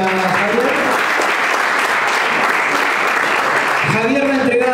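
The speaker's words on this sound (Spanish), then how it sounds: "Aplausos para Javier." Loud, dense applause fills a room at a presentation event for a documentary with Racing Club as Javier is called up, steady throughout while a voice speaks over it near the end.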